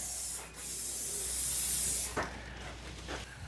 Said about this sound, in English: give it a little spray with some, what's that, WD-40 Specialist Dry PTFE